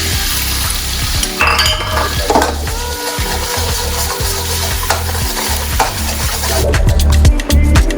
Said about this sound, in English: We're gonna lay down the eggs.